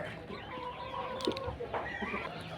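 Desi tiger breed hens clucking softly in a steady background murmur, with a few brief louder calls rising above a busy farmyard din.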